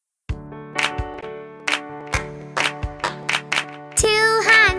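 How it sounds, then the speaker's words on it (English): Sharp hand claps in a children's body-parts rhyme strike one at a time in an uneven rhythm over a sustained musical backing, ending in a denser, brighter burst. "Two hands go clap,"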